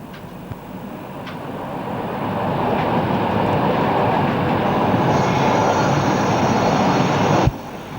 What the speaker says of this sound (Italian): Dopo questa breve salita il treno si ferma così alla fermata di dirigenza unica di Meduno